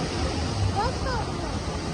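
Rain falls steadily at the Rajkot racecourse, a dense, even hiss with a low wind-like rumble, continuous and close for the short stretch.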